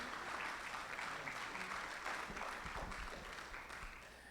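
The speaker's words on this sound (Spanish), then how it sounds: "Un fuerte aplauso para despedir a Rosita." A church congregation claps steadily in a reverberant room, the applause continuing throughout and tapering slightly toward the end; quiet overall.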